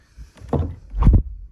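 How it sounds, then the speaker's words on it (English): An interior door of a home voice-over booth in a garage swings and shuts, a couple of close, dull thumps and a latch knock in a quiet room. "I close the door."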